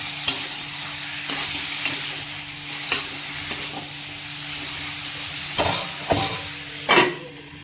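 Salted pork sizzles steadily in a hot pan, with several brief scraping stirs that briefly push the frying noise louder.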